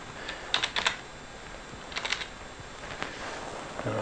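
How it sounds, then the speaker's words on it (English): Keys on a computer keyboard are tapped in short bursts of quick clicks with pauses between them, close and fairly quiet, as hexadecimal bytes for a boot sector are entered. "So in here I'm going to type some bytes."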